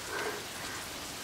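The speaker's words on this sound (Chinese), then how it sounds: "你看今儿这大暴雨下得太突然了" A sudden heavy rainstorm pours down outside a guesthouse, heard as a faint, steady hiss of rain without speech.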